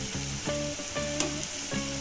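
Cauliflower frying in hot oil gives a steady, close sizzle with brief crackling bursts, all under a faint tonal hum in the background.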